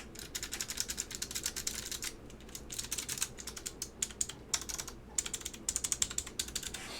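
Typing on a restored Apple Extended Keyboard M0115 fitted with Alps SKCM White switches gives crisp, close clacks in quick irregular runs, with short pauses between bursts.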